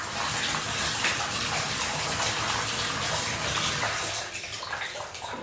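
Tap water gushes into a bathtub as it fills, a loud, continuous rushing splash held close and steady, then easing off slightly toward the end.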